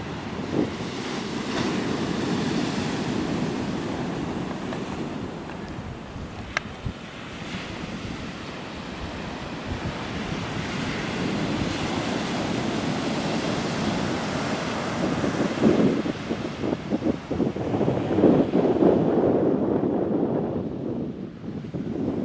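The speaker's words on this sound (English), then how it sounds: "Why not? It's the ocean." Ocean waves roll onto a Florida beach under gusting wind, a steady roaring surf with buffeting wind noise on the microphone that swells louder toward the end, with no talking.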